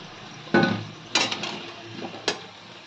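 Fried brinjal fritters (beguni) are lifted out of a pan of hot oil, with a few sharp clinks of a utensil against the pan and soft scraping between them, close and otherwise quiet.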